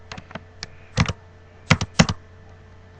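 Typing on a computer keyboard while writing a title in the Sublime Text editor: scattered, close, crisp key clicks in short bursts, with a few heavier clustered keystrokes and pauses between, no talk.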